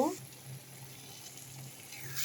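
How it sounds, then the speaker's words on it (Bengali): Marinated spice paste sizzling in a pan with fried onions, a steady soft frying hiss throughout. "এখন আমি মাখানো মশলাটা ঢেলে কষিয়ে নেব"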